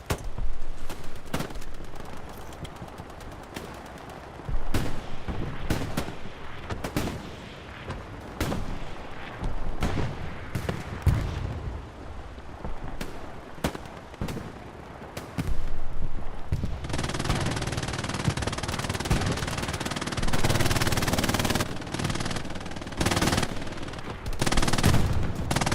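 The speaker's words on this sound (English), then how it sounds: "MG42, AT gun rocking." Video game gunfire on a D-Day battlefield: an MG42 machine gun and anti-tank guns fire in irregular bursts and heavy booming shots, loud and close, with dense rattling volleys building in the second half.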